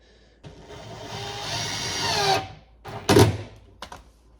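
A power drill driving screws while soft-close hinged cabinet doors are installed, with a whirring run of a couple of seconds that winds down, followed by short bursts and knocks, close and alone.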